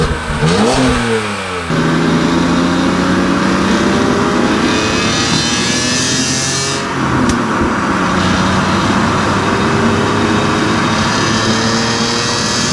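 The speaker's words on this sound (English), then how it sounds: "I figured I'll start with the exhaust since it sounds pretty bad." A BMW E46 M3 on its stock exhaust revs up and settles, rising and falling engine tones with a sharp blip at the start, heard up close and loud throughout.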